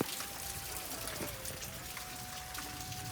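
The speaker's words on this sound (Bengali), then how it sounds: "অনেক দিন পরে এরকম বৃষ্টি হলো আজকে সকাল সকাল" Heavy morning rain falls over flooded streets in Vrindavan, a steady close hiss and patter with a faint thin tone running underneath.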